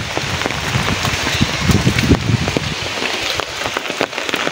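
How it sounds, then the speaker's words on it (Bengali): A downpour in a Rajbari district storm drums on surfaces, with close patters and splashes layered over a constant loud hiss that never breaks. "ঝড় হইতেছে, প্রচুর পরিমাণে বাতাস হইতেছে।"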